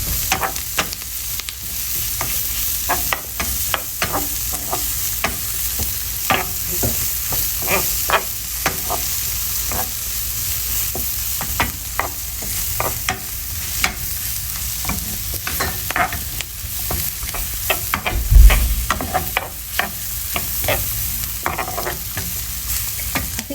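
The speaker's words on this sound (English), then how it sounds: "Stir that very fast, very quickly." Mushrooms and spring onion are stir-fried fast in a pan, with a continuous loud sizzle and rapid scraping, tossing strokes throughout, plus one heavy knock near the end.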